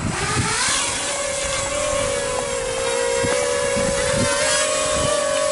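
A Hobbymate X160 quadcopter on a 3S pack spins its motors up outdoors, a steady close high-pitched whine that holds a nearly constant pitch, with light gusty breeze in the background.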